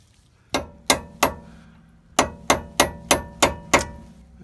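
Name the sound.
hammering flat nose punch to stake axle nut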